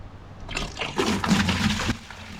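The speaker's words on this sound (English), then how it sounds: "So with a bucket, I'm just gonna pour some of this chlorine, because chlorine's really, really strong." Chlorine and soap cleaning mix pours from a bucket onto a Cape Horn 31T boat deck near the gas tank area, a steady splashing gush that swells for about a second and a half and then cuts off.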